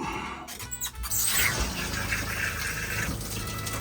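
Pink RV antifreeze gushes from a shower faucet during winterizing, a loud steady rush of liquid after a brief squeal and sputter as the flow starts.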